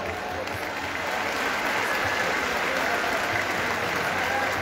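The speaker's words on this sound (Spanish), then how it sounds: "Fuerte el aplauso, por favor" A crowd applauds at the coronation of the Dalia queen during the opening of the 2022 Huamantla fair, a loud, sustained, even wash of clapping.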